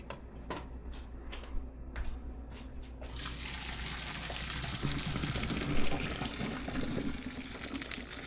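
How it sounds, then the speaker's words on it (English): Boiled potatoes drained, hot water pouring out in a steady broadband rush after a few light knocks, continuous and fairly close with no talk. "I'm going to go ahead and take them and drain them really quick"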